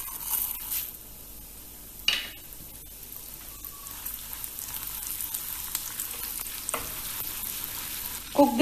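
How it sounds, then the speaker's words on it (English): Lentils and curry leaves roast in oil over low heat for a coconut-free dosa chutney, giving a soft, close, continuous sizzle with a few sharper stirring scrapes. "Cook this on low heat till the lentils are very well roasted."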